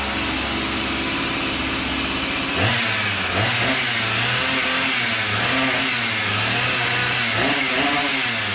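A Husqvarna 371 XP chainsaw engine idles, then revs up and down repeatedly with a buzzing, wavering pitch, close and loud with no voices; the saw had trouble revving, backfiring and stalling.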